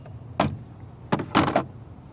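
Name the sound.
part sliding off the throttle body of an S10 Blazer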